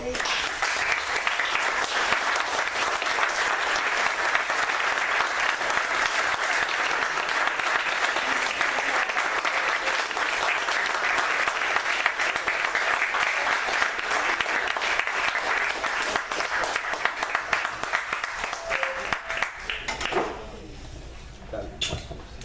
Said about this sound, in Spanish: Yo pidieron un aplauso para ellos dos.